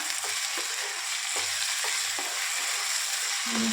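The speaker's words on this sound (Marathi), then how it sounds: "हलवून घेऊया पुन्हा" Egg curry masala frying in oil in a kadai sizzles steadily while a spoon stirs it, with several soft scraping knocks against the pan.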